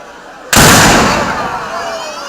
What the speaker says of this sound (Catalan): A ver si dispara, que se le ha mullado la pólvora.